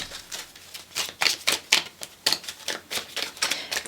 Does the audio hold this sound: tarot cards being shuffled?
yes